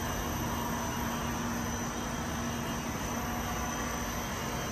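An ELE bead mill motor runs at around 600 RPM, producing a steady, continuous mechanical hum with a constant low tone and broad hiss. It holds at the same level throughout, with no talking.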